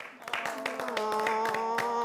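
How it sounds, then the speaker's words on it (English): Scattered audience clapping at an 11th anniversary celebration, uneven claps under a sustained tonal hum or music, moderately quiet and building slightly. "Now clap."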